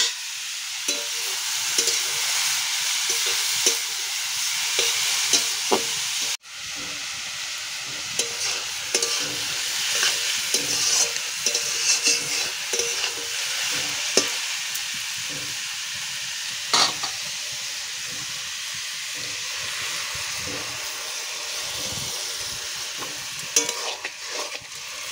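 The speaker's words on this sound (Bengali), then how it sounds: "এখন আমি বেগুনটা ভেজে নেব" Brinjal frying in hot oil in a pan, a loud continuous sizzle and crackle with frequent stirring scrapes, and one sharp click early on.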